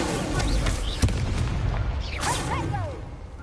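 An Incendio fire spell cast in Hogwarts Legacy: one sharp crack followed by a roaring, crackling burst of flame and swooping whooshes, all over a continuous noisy game backdrop.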